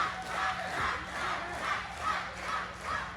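Crowd at an independent CCW wrestling show during a no-disqualification match, cheering and chanting in steady rolling waves, loud and continuous with no talk over it.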